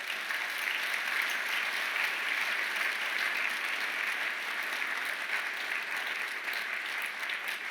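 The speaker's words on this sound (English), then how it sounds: "I guess they deserve an applause." Sustained, even applause from a conference audience at the HAICON26 opening session, dense clapping continuing for several seconds without talk.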